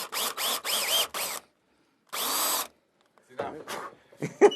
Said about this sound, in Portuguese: E agora ele está me convidando para fazer um furo aqui.